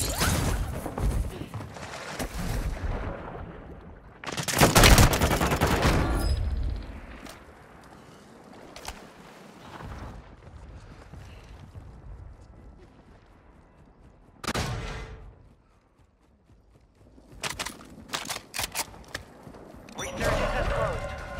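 Bursts of gunfire and explosive impacts from the video game Warzone 2 (Resurgence mode) come in loud clusters separated by quieter stretches, mixed with game audio and voices.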